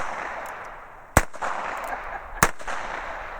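Two sharp shots from a Heritage Rough Rider .22 single action revolver, spaced about a second apart, each a loud crisp crack with a short tail over faint outdoor background noise.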